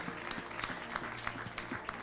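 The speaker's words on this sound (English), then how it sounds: "give the Lord a hand clap of praise" A church congregation claps in praise during a morning worship service, a steady patter of many hands over a low sustained organ or keyboard chord, with faint voices mixed in.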